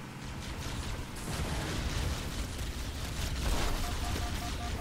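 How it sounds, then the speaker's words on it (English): Explosion in the Halo video game, a rumbling burst of noise layered over ongoing game sounds, with booming low-end surges rather than a single sharp crack. "Explosion."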